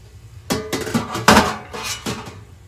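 Halved Brussels sprouts tip into a hot oiled pan in several clattering bursts, each a sharp rattling thud that fades into a light sizzle, close and fairly loud.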